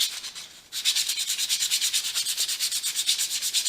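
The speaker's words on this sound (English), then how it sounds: "It doesn't take a lot to sand these." Wooden coasters having their edges sanded by hand, a steady rhythmic rubbing of abrasive on wood in quick back-and-forth strokes, close and clear with no talk.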